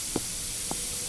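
Two short, quiet bursts from a spray can in Internet Cafe Simulator 2, each a brief hiss over a steady background of noise.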